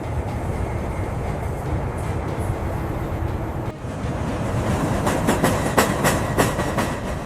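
A train runs through Switzerland's long Alpine base tunnel with a loud, steady roar and rumble, while rhythmic clickety-clack of wheels over rail joints grows clearer toward the end.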